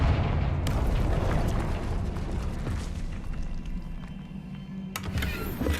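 A Confringo fire spell blasts in Hogwarts Legacy, a loud booming burst with explosive rumble that rolls on, followed by sharper crackling hits near the end.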